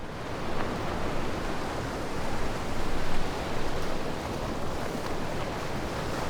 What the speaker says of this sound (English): see the ocean and the waves